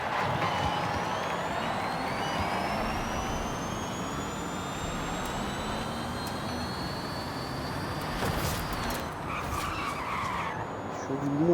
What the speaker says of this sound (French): On est sur une voiture qui patine beaucoup, hein.